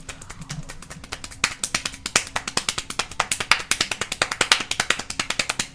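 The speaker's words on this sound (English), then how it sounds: "I was going over how I'd been working on my fast clapping" A single person claps fast by hand, a rapid, even train of sharp claps close to the microphone at several per second, starting unevenly and settling into a quick steady rhythm, with no talking.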